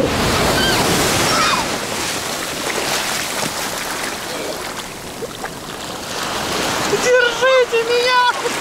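Ocean surf rolls and breaks on Pandawa beach in Bali, a broad continuous wash of waves with wind buffeting the microphone, while voices and shouts rise over it near the end.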